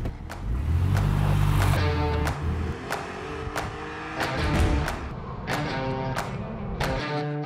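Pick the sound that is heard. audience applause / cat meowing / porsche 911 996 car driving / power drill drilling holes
porsche 911 996 car driving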